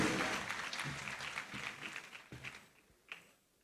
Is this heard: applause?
yes